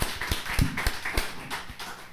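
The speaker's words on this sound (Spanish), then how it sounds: "un aplauso para nuestros hermanos de Morena" Audience applause at a Mexican political talk show, a dense crackle of claps with sharper bursts running steadily through the short stretch, moderately loud and without talk over it.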